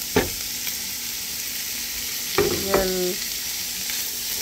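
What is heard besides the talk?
vegetables sizzling in frying pan with eggs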